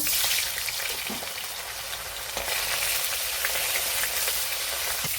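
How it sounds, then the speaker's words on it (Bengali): A hilsa fish head frying in hot oil in a wok, giving a steady, dense sizzle and crackle that runs unbroken throughout at close range, with no voices. "মাছের মাথাটা ভেজে নেব।"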